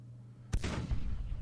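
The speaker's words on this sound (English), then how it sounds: "we can at least fire now with these 6-pounder guns" A 6-pounder cannon fires in the Civil War strategy game Grand Tactician, giving one sharp, loud boom that rolls out into a rumbling tail over a low steady hum.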